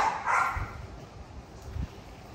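Dogs at a puppy kennel yard let out a couple of brief barks, one early and one near the end, fairly close against a steady outdoor background.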